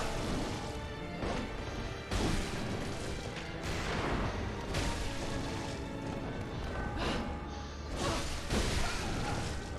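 Gunshots and heavy melee hits crash through a Bloodborne boss fight against Maria, loud dense bursts of smashing impacts and whooshing swings packed together over the whole stretch.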